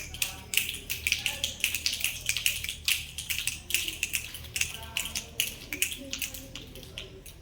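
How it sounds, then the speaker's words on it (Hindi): An audience of students snaps their fingers together in a classroom, producing many sharp, quick clicks in an irregular, steady patter that runs throughout, near and fairly loud. "आज तालियां बजाकर नहीं बल्कि चुटकियां बजाकर।"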